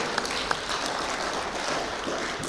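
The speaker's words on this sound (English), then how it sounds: "I think we can give them a big clap for doing that" People at a general meeting give a steady round of clapping for two members, a dense, even patter of many hands from a moderately sized crowd with no voices over it.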